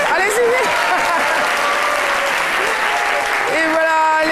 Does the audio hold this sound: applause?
yes